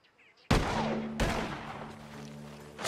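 Gunfire from a Western shootout in Red Dead Redemption 2, with two loud blasts that each trail into a long ringing tail of reverberant noise and a steady tonal hum underneath.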